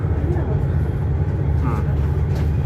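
Steady rumble and rattle inside a fast-moving Melbourne suburban train carriage, a continuous close low roar with faint voices mixed in.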